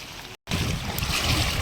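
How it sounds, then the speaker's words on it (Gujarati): Water pours out and drains away in a steady, rushing flow at a village cattle shelter, loud and close, broken by a brief silent gap near the start. "જામાં અહીંથી બધું પાણી નીકળી જાય."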